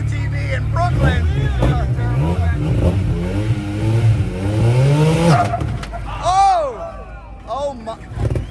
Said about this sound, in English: now a UTV rolling through the streets. It's got a long tandem pack, a turbo UTV in Brooklyn